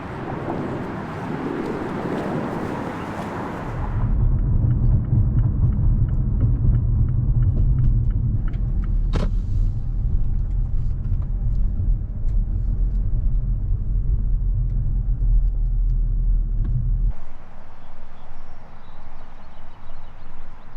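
Car driving on roads around the Chicagoland suburbs, a steady low engine and tire rumble that holds for most of the stretch before cutting off near the end.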